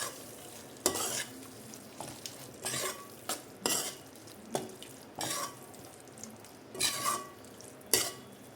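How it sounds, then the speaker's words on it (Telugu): Gravy frying in oil for paneer dum biryani, a quiet continuous sizzle broken by repeated spoon scrapes and clinks against the pot at an irregular, unhurried rhythm, close by. "దీన్ని కొంచెం ఒక 5 మినిట్స్ ఆయిల్ సపరేట్ అయ్యే వరకు కొంచెం దీన్ని ఫ్రై చేద్దాం గ్రేవీని."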